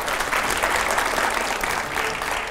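Studio audience applause on a televised political talk show, a loud and steady wash of many hands clapping at once that holds evenly for the whole stretch with no voices over it.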